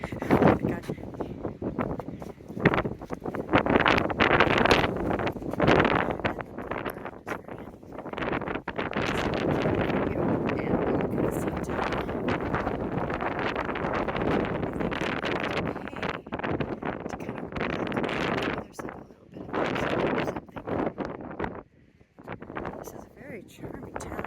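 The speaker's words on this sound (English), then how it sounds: "It's very windy here" Strong wind buffets a microphone outdoors in a small touristy town, a loud roaring rush that gusts and drops unevenly for a long stretch, with a voice speaking in places.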